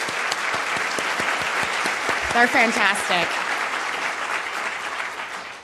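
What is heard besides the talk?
audience applause at a summit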